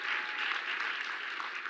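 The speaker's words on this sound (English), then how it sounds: "let's have a round of applause." Audience applause at a live interview event, an even, continuous patter of many hands clapping, fairly distant and soft, with no break.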